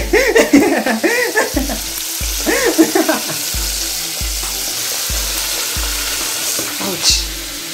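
Food frying on low heat in a pan during home dinner cooking, a steady soft sizzle with repeated stirring scrapes in an even rhythm, fairly close, with a brief voice early on and a short clink near the end.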